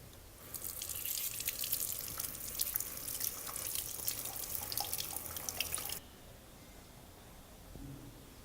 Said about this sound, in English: clean the board using the pure water